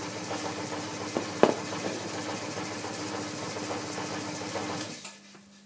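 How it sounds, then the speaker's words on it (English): Air compressor running in a workshop during a structural foam job, a steady close mechanical chugging drone with a few knocks that stops abruptly near the end, no talking. "That's the compressor going"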